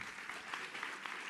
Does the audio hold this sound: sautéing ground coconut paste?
no